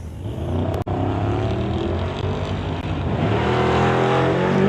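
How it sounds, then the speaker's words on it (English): A Mach 1 Mustang race car accelerates hard down a drag strip, a loud sustained engine roar with climbing pitch through gear changes, continuous and close. "It looks like our TCS Mach 1 rolling through the light"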